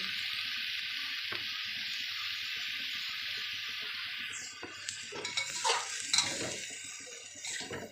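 Mixed-meat pad kra pao with plenty of holy basil stir-fried in a pan, with a close, steady sizzle, then louder scraping and clattering of the spatula toward the end.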